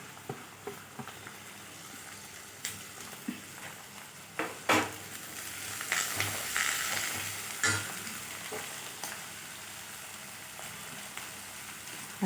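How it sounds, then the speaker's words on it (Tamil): Ginger, garlic, green chilli and curry leaves sauté in a pan for masala dosa filling, giving a steady hiss of frying with sharp stirring clacks and spoon knocks at irregular intervals, no voices. "அதோடவே 2 கறிவேப்பிலை, இதை நல்லா வதக்கிக்கணும்."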